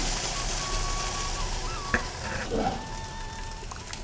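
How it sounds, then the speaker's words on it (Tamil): Bottle gourd adai batter frying in oil on a hot pan, a steady close sizzle with faint scraping as the batter is spread, no talking. "இதில் 1 கரண்டி மாவு, நம்ம அதை லைட்டாக ஸ்ப்ரெட் பண்ணால் போதும்."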